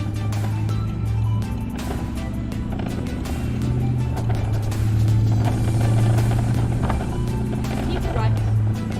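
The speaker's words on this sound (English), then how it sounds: "Really sounds like a V8, this thing." A truck engine in Euro Truck Simulator 2 rumbles with a deep, V8-like bass hum as the truck drives on, shifting in pitch with throttle, while someone talks over it.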